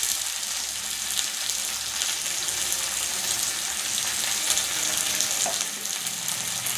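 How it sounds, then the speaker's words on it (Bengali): Potatoes fry in a pan with green chilies, tomato and ginger-garlic paste, giving a loud, continuous crackling sizzle with bits of stirring throughout. "আলুগুলো একটু অল্প অল্প ভাজা হয়ে গেছে তার সাথে এবার কাঁচা লঙ্কা দিয়ে দিচ্ছি আর দিয়ে দিচ্ছি টমেটো"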